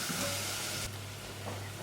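Tomato puree cooking in a curry pan gives off a soft, continuous sizzle, fairly quiet and steady, with no talking.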